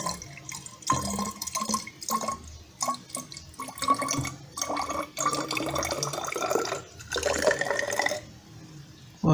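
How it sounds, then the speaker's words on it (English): Distilled water is poured into a laboratory flask up to the mark during a chemistry practical, irregular splashing and trickling pours in several bursts with brief pauses, close and fairly quiet. "I'm going to add distilled water up to the mark."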